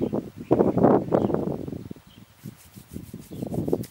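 Palms rub briskly together during a Qi Gong self-massage, making close, dry swishing strokes in a steady back-and-forth rhythm, with brief pauses between bursts.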